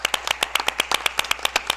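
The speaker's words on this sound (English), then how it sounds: "Round of applause, Mrs. DeVita." A small group claps for a staff member at a school board meeting, about a dozen sharp, distinct claps in an uneven rhythm, close and fairly loud, with no voices.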